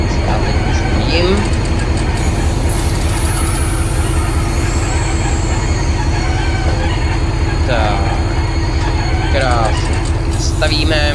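A train in Train Simulator 2021 braking to a halt at a station platform, with a steady low rumble of running gear and a regular rhythmic clatter, loud throughout, while someone talks over it.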